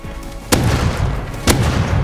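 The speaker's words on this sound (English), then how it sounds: "I'm running over 8 shots with a revolver." Two loud revolver shots in Rust, each a sharp crack about a second apart with a booming tail that rings on between them, close and with no talk.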